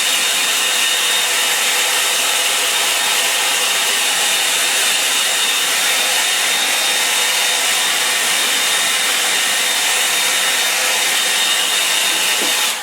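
A hair dryer blows continuously at close range, a loud, steady rushing hiss drying a wet painting, with no voices.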